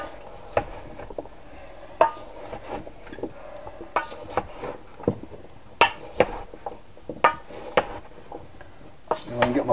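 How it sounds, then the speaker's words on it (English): Potatoes being tossed with flour, salt, pepper, garlic and onions in a dish, giving soft scraping and clinking knocks against the dish at an irregular pace, close by, with a voice talking throughout. "We're just going to mix the flour and the salt and the pepper and the garlic and the onions and the potatoes."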